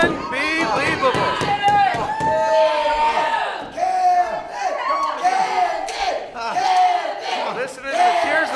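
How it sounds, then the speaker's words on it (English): Arena crowd at an IZW independent wrestling match roars and cheers continuously and loudly, with shouts and whoops rising throughout while a commentator talks over the noise. "Listen to the cheers of the crowd."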